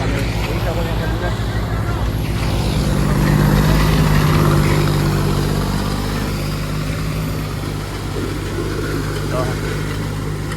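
A tractor fitted with a khajuro machine runs nearby, a steady low engine drone with a mild swell in the middle. Voices talk over it.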